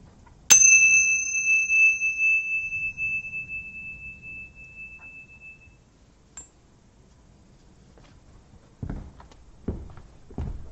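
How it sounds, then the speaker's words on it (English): A single ritual bell struck once during a Gnostic Rosicrucian mass, ringing out clearly and decaying slowly over several seconds in a quiet room, followed later by faint soft shuffling noises. "the ringing of the bell enchants my soul into the city of the pyramids"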